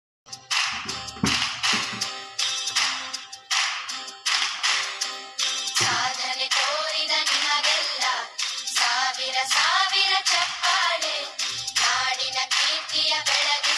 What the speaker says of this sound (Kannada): ಹೆಮ್ಮೆಯ ಚಪ್ಪಾಳೆ